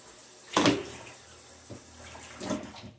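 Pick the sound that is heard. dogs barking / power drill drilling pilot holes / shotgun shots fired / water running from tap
water running from tap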